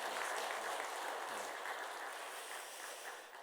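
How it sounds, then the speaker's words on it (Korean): A church congregation gives a quiet, steady round of applause in thanks for a donated van, a soft continuous patter of hands with a brief voice near the start. "우리 박수로 감사 표현하겠습니다."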